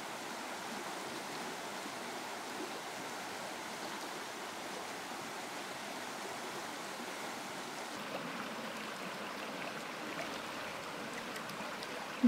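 Rainwater coming down from a ghat plateau runs as a stream, a steady, even rushing wash of flowing water heard alone, moderately faint and unbroken throughout.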